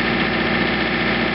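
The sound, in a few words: 2720 compact tractor engine running snowblower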